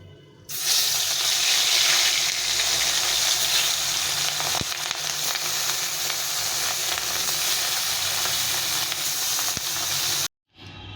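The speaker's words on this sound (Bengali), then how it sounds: "এখন বাটা মাছগুলো ভেজে নেব" Bata fish fry in hot oil in a wok with a loud, steady hiss and crackle that keeps going without a break. It cuts off abruptly just before the end.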